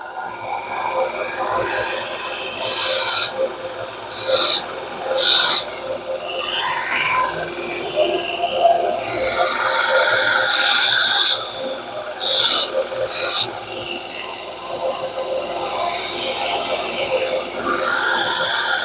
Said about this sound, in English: I don't want to grind too much off.